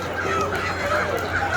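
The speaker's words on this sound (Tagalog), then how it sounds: "ito na yung malalaking manok" Large chickens and other fowl at a busy market in Dammam, Saudi Arabia, give short clucks and calls over a constant crowd murmur and low hum.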